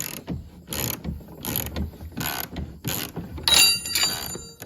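A wrench ratchets bolts off the snoot of a harvester in a shop, several quick bursts of metallic clicking separated by short pauses, close and clear with no speech.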